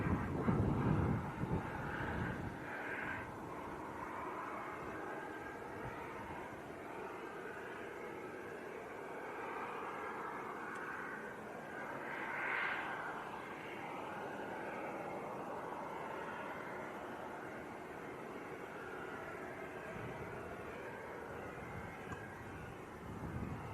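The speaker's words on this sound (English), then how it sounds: "Next inbounds on short finals as well. Just a couple of miles out. Aer Lingus from Dublin," An Aer Lingus ATR 72 from Dublin on short final at Leeds Bradford Airport produces a faint, distant, steady engine drone with light wind noise throughout.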